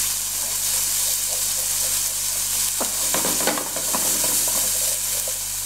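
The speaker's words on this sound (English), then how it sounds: "now in with the capsicum, garlic. Just give this a sweat through" Capsicum and garlic cooking down in a frying pan with eggplant, a continuous bright sizzle broken midway by a burst of scraping, clattering stirring, close and loud.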